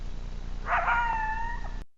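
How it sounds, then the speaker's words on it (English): Coyote howling at night in mountain lion country, a single wavering, drawn-out cry with gliding tones, moderately distant over a low steady background hum, ending abruptly. "Most likely he's one of the coyotes howling that the mountain lion is going to check out."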